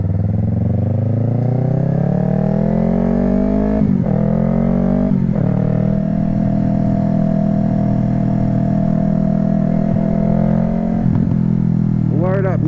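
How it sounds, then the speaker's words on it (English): Yamaha R3 motorcycle exhaust, a steady loud engine drone with a couple of revving shifts, recorded on the move while a rider talks over it. "I love the sound of this damn exhaust"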